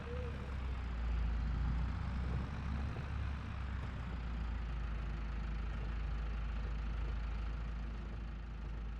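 Tractor carrying a front weight running in a farming game, its engine holding a steady low idle rumble that stays loud and constant from start to finish with no talk over it.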